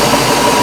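Steady, loud roar of a carbureted MerCruiser 5.0 V8 boat engine running rough at about 2,500 rpm, a continuous broadband drone with no distinct beats or talking.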